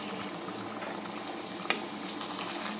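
Chicken biryani liquid with biryani masala bubbles steadily in a pot at a gentle boil, with one brief clink partway through.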